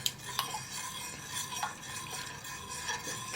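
A spoon stirs a warm mixture in a pot, giving soft, continuous scraping and swishing with a few sharper clinks against the metal, close and fairly quiet, with no voices.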